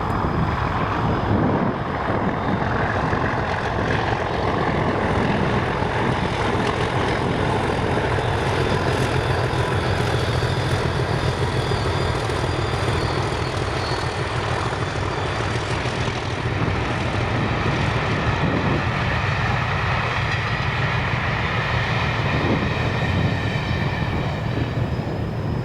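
Class 37 diesel locomotive 37685 hauling a Linlithgow to Aviemore train in Scotland, a steady, loud engine rumble and rail noise that holds throughout without letting up.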